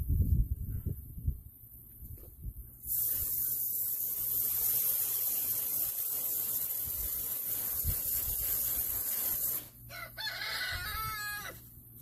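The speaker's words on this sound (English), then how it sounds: "Power wash the inside." A high-pressure power-washer spray blasts the inside of a dressed chicken, a loud continuous hiss lasting several seconds before cutting off, with roosters crowing nearby and a person speaking briefly.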